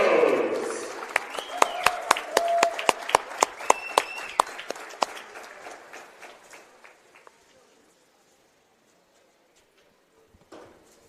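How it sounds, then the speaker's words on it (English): Crowd applause at a Jersey Roughnecks vs Jersey Bearcats football game honoring local heroes: loud rhythmic clapping and cheering that swells, then tapers away into near silence, with a brief stir of noise at the end. "let's have a big round of applause for our local heroes"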